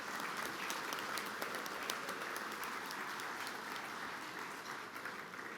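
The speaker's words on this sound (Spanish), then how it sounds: "Recibo ese aplauso" Steady audience applause after the Uruguayan Interior Minister Luis Alberto Heber's speech, a dense wash of many hands clapping at a moderate, somewhat distant level throughout.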